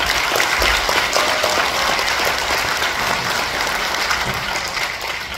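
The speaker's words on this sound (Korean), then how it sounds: "다시 한번 박수 부탁드리겠습니다" After a documentary film screening, an audience claps loudly and steadily, a dense crowd applause with scattered sharper hand claps that tapers a little at the close.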